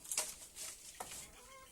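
Chickens cluck in short, scattered bursts at a moderate distance, faint against quiet background.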